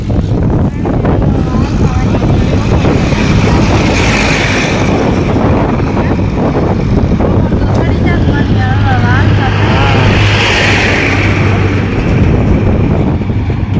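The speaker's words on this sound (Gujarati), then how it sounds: "પવન ને વાહન નો અવાજ" Loud, constant rumble of a passing vehicle mixed with gusts of wind buffeting the microphone, with a voice talking faintly underneath.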